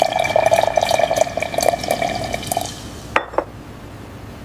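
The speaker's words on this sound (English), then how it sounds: "A stable foam shows the work hidden behind the pour." Beer pouring at a German brewery, a steady liquid stream filling a glass for about three seconds, then a couple of soft clinks and quiet, with no talk.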